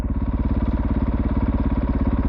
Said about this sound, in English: really is amazing how smooth this thing idles